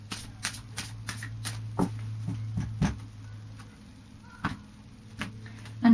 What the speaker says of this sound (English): So I'll just do a final shuffle of the Fairy Oracle for you.